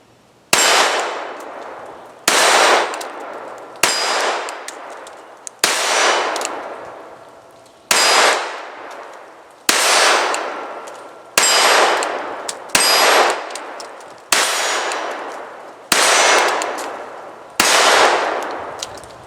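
Ruger LCP II .22 LR pistol shots striking steel targets at 10 and 15 yards, about ten sharp metallic clangs that ring out and decay, spaced roughly every two seconds, loud and alone.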